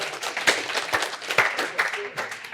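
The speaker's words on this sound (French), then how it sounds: "On peut l'applaudir, bravo" An audience gives a short burst of applause for a participant at a talk on digital marketing tools. The claps are scattered and moderately loud, with a voice in the background.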